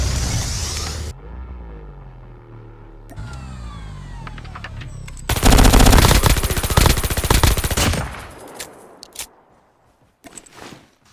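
Rapid bursts of machine pistol gunfire in the mobile shooter Call of Duty Mobile, loud sustained automatic volleys mixed with other in-game weapon and effect sounds, some brief shots trailing off toward the end.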